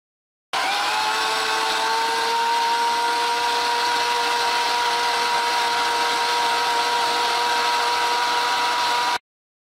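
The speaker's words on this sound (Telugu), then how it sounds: "దీనిలో ఒక 1/2 గ్లాసు వాటర్, 3 టీ స్పూన్లు పంచదార వేసి మూతపెట్టి మిక్సీ చేద్దాం." A kitchen mixie grinder blends green grapes with water and sugar in its jar, a loud steady whine that holds for about nine seconds and then cuts off, with no voices.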